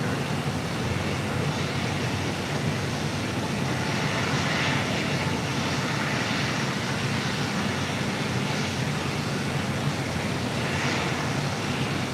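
An airliner, an Asian cargo jet, rolls for takeoff down runway 25 right at LAX, giving a steady broadband engine roar that holds at an even loudness throughout, with no voices.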